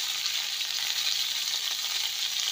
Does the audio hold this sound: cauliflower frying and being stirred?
yes